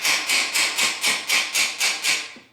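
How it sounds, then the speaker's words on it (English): A hammer taps a metal TC Bros rear fender against a dolly on a Honda Rebel 250, eight or nine evenly spaced, sharp ringing blows close up. "I just hold it in there tight and then just tap it down."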